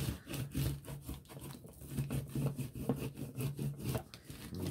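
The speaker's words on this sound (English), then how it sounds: "just give that a good burnish on the back." Paper belly band tag is rubbed firmly with a burnishing tool, giving quick rhythmic scraping strokes, close and fairly soft.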